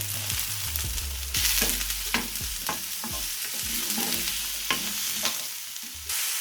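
Washed, roughly chopped mushrooms hitting a hot pan for a creamy spicy prawn stir fry, a loud close sizzle with repeated sharp stirring scrapes and clacks throughout.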